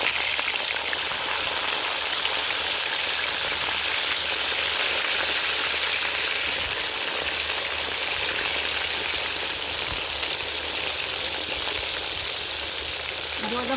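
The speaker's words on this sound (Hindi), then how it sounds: "अब इसी घी में मैं ये बैंगन डाल देने लगी हूँ।" Eggplant frying in ghee gives a loud, dense, continuous sizzle close up, with no letup throughout.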